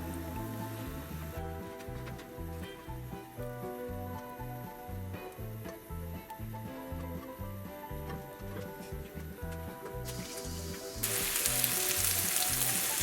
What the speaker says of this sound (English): So as these are sizzling